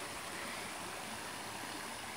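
Spring-fed river water flowing steadily where it rises out of the ground near a waterfall, a continuous broadband rush that is close and even throughout, with no voices.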